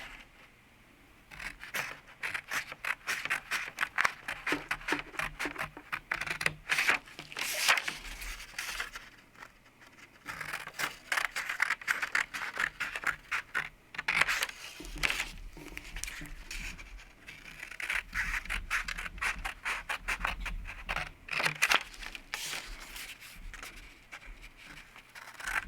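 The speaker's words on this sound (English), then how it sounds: "grab your scissors again, and you're going to cut on these lines up to the mark that you made." Scissors snip through paper for a pinwheel craft in rapid, repeated crisp cuts, with rustling and pauses between runs, close and fairly quiet, with no talking.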